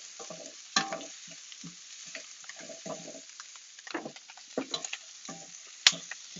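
Salmon cooks slowly over lowered heat in a cast iron pan, making a soft, intermittent sizzle with scattered crackles and faint scraping.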